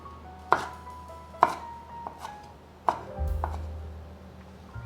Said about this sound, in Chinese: 来切1/3颗的黄甜椒， 换一个方向切小丁